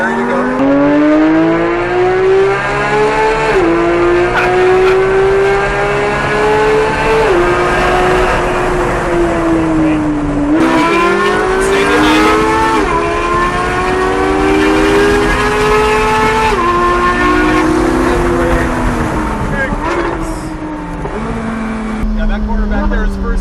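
A Lamborghini or McLaren driven hard on a race track, its engine roaring loud and close, revs climbing and dropping through repeated gear changes and braking for corners, with an instructor speaking over the noise.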